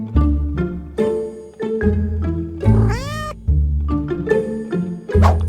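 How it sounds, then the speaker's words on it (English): Cat meowing in Minecraft, a run of repeated meows with short pauses between them, one longer rising and falling yowl in the middle, close and clear with no talking. "I was working on the road and I swear I heard a cat."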